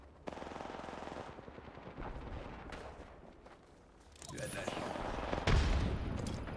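Automatic gunfire from the Apex Legends battle royale game, bursts of rapid shots rattling through the mix with a louder volley near the end, heard alongside game noise and voices.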